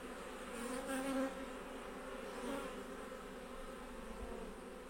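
Honeybees buzzing around an open hive during an inspection, a soft continuous drone of many wings that swells and fades, close but quiet, with no voices.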